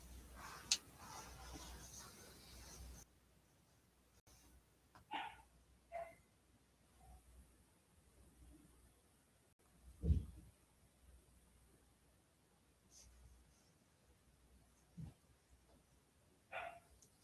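A dog indoors barks and whimpers in a few short scattered outbursts, faint and somewhat distant over low background hiss, with no talking.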